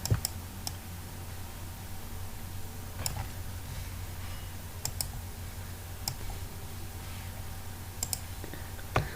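Steady, fairly quiet typing on a computer keyboard while coding JavaScript, with sparse single key clicks and a few sharper taps spread over a low background hum, no talking.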